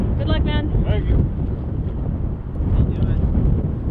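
Strong wind buffeting the microphone during a road cycling race, a loud, steady rumbling roar with gusty swells, while people talk over it.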